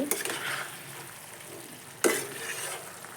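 Pointed gourd, potato and small fish curry in a pan are stirred after uncovering, with a soft simmering sizzle, a few utensil scrapes at the start and a sharp clank of metal partway through, fairly quiet, no voices.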